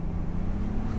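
Mercedes-AMG CL65 V12 engine idling or running at low revs in a steady, close, continuous hum with a strong low drone, on a slippery road; no talking.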